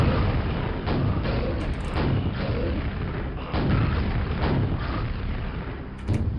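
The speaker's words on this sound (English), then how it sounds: "How about we fire a few rockets or grenades in there instead?" Rockets and grenades burst one after another inside an enclosed space in Quake 2, a steady series of loud, thumping explosions with rumbling tails, close and continuous.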